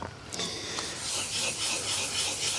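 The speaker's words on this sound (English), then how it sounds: "wet sanding that area with 1200 grit" Wet sanding of car paint on an E46 BMW 330Ci with 1200 grit sandpaper, a steady close-up rasping rub that continues without pause.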